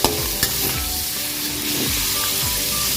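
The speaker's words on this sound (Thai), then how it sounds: "ทำให้หมู คั่วให้หมูให้มันหอมก่อนนะคะ" Pork belly stir-fried in a pan for a long-bean dish, a loud, dense sizzle and hiss filling the whole stretch, with occasional spatula scrapes and clatters close by.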